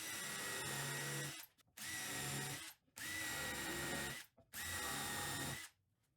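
Power drill countersinking holes in the fence of a table saw sled, four loud close whirring bursts of about a second each with brief pauses between.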